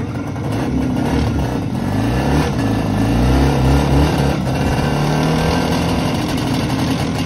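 A 1978 IZH Jupiter 3 motorcycle engine, in first gear, revs loudly and close by, the pitch rising and falling through several throttle swells over a rough running rumble.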